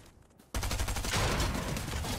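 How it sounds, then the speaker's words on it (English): Rapid submachine gun bursts in Fortnite, a loud, dense stream of automatic shots starting sharply after half a second of quiet and continuing without pause. "The SMG is gonna shred him."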